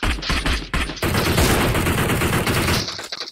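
Dense video-game gunfire rattles in rapid automatic bursts, loud and close, with sharp separate shots at the start and end around a sustained barrage in the middle.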